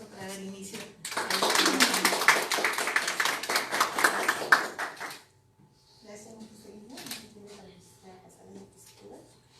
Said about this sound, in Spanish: Vamos a recibirla con fuertes aplausos